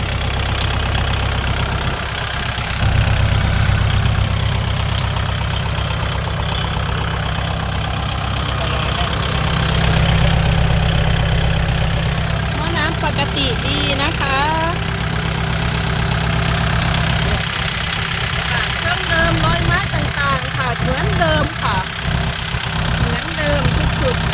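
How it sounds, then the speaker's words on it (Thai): A used Kubota L4708SP tractor's four-cylinder diesel engine idles with a steady low rumble and faint knocking throughout, while people talk over it at times. "นี้เป็นเครื่องยนต์สี่สูบนะ เครื่องยนต์สี่สูบค่ะ"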